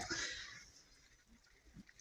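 A pig gives a short, breathy snort up close, followed by quiet rustling and a faint grunt.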